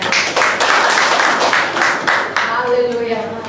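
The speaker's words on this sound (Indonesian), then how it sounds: "Sekali lagi tepuk tangan buat kita." A church congregation at a Sunday worship service in North Jakarta bursts into a loud, dense wash of clapping that fades after a few seconds, with a voice coming through as the applause dies down.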